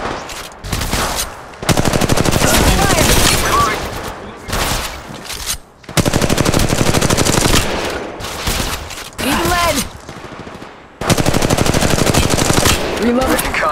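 Sustained automatic gunfire in the mobile battle royale Apex Legends Mobile, long loud bursts broken by brief gaps, with a voice talking in between.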